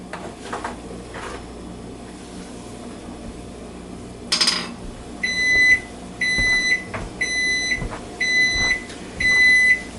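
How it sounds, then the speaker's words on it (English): A microwave oven timer going off in a kitchen: five evenly spaced, bright electronic beeps, each held for about half a second, preceded by a few soft clunks and handling noises. "timer on the microwave is going off in about 10 seconds"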